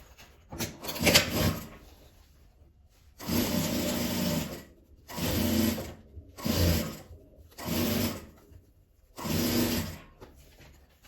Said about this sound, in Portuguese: Vou vir passando a costura.